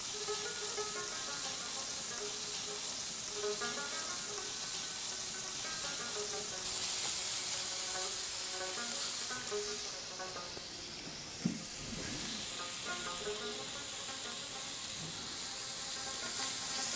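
Mixed vegetables frying in a little oil on an iron teppanyaki griddle, hissing and sizzling steadily up close for the whole stretch, with a brief clatter of a utensil partway through.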